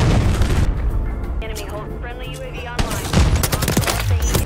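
Rapid gunfire and booming grenade blasts from an MW3 zombies match fill the mix, loud and dense, with a player talking over the chaotic battle noise.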